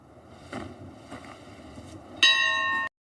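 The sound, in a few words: bell being rung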